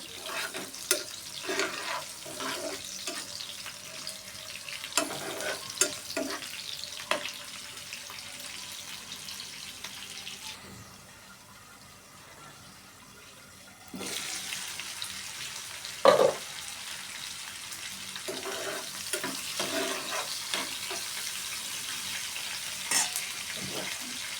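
Onions frying gently in a pan for a country chicken curry with coconut milk, a soft steady sizzle with scattered spoon scrapes and clinks; midway the sizzle drops away for a few seconds before returning.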